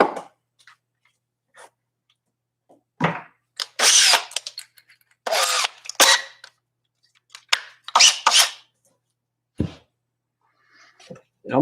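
A few screws are driven into a guitar speaker cabinet during a temporary fit, heard as scattered short bursts of tool whir and scraping separated by quiet pauses.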